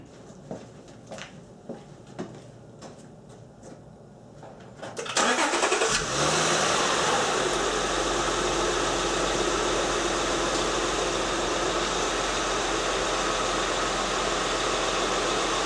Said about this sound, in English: so let's start up the vehicle